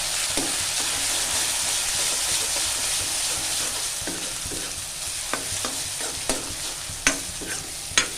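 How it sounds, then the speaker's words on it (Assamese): Spice masala for fish curry stirred in a hot pan, a continuous bright sizzle with spatula scrapes and knocks growing more frequent toward the end, no talking. "এই মছলাখন এইখিনি দি দিম ধুনীয়াকৈ লৰাই থাকিলোঁ"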